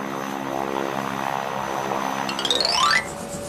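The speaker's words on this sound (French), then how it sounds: "L'hélicoptère." An aircraft engine drones steadily, propeller-like and moderately loud, from a children's picture-word song presenting a helicopter. A rising whine sweeps upward near the end, and no one speaks over it.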